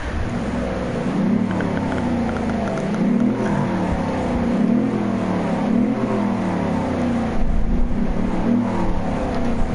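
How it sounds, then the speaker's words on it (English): A fast car's engine in the Car Mechanic Simulator game revs repeatedly, loud and close, in steady rising and falling surges with no talk over it. "I was just revving it up just to see what it sounded like."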